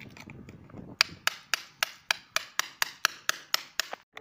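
Old tile adhesive chipped off a floor with sharp hammer-and-chisel strikes, about a dozen crisp, evenly spaced blows in quick succession, loud and close with no talk.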